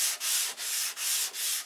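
A sanding block works along the leading edge of a model airplane wing, making five steady back-and-forth rasping strokes, close and loud, with brief gaps between each stroke.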